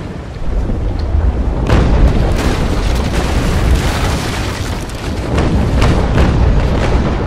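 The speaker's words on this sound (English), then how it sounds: "I'll be able to fire off a few decent broadsides" Cannon broadsides from a brig in a naval battle video game roll out as heavy, rumbling booms that blend into a sustained, loud thunderous roar with repeated surges, close and overwhelming, with no voices.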